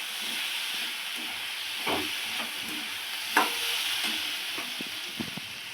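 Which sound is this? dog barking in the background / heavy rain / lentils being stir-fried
lentils being stir-fried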